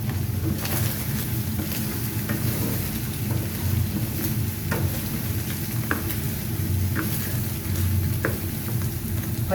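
Zucchini gourd stir-frying in a pan, a steady close sizzle with scattered clicks and scrapes of stirring running through the whole stretch, no voices.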